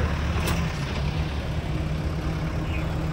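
Continuous road traffic rumbles at a broken intersection, with heavy vehicles such as trucks or buses droning steadily and loudly close by, a brief higher hiss or brake burst near the start.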